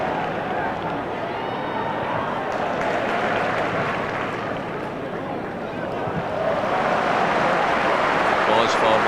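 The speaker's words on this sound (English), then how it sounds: "Applause for Maurice Malpass, the Dundee United fans, just behind Steve Dykstra's goal" Supporters at a Scottish Premier Division match, St Johnstone against Dundee United, applaud from the stands as a broad, steady wash of clapping and crowd noise that swells toward the end, with a commentator talking over it.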